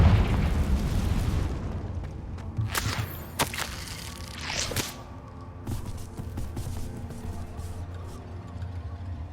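Confringo fire-spell blasts burst in Hogwarts Legacy, several sharp booming cracks with whooshing tails spread over a few seconds amid a noisy rumbling background.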